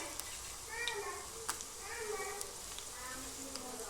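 Dry red chillies sizzling in hot oil for a dal tempering, a soft continuous sizzle with occasional sharp pops and ticks, quiet and close, with a faint voice in the background.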